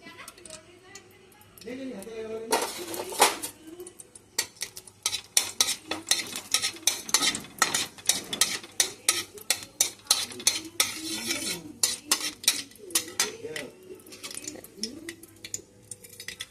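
Dried chili flakes stirred in hot oil in a kadai, with rapid spatula scrapes and clinks against the metal and a light sizzle, while a person talks at the start and end.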